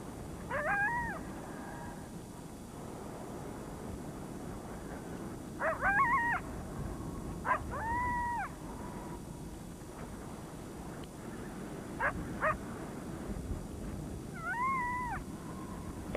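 A great horned owl calls at night over a newly thawed lake: several faint, wavering, whining cries come in scattered clusters against a quiet, hissing background, with no one talking.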